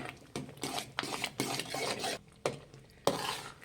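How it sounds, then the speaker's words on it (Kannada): Sweet pongal for Sankranti is stirred in a pot over a medium flame, giving repeated close scraping and rubbing strokes in an irregular rhythm, with occasional louder knocks against the pot and no talking. "ಮೀಡಿಯಂ ಫ್ಲೇಮಲ್ಲಿ ಇಟ್ಟು ಇದನ್ನು ಮಿಕ್ಸ್ ಮಾಡಬೇಕಾಗುತ್ತೆ"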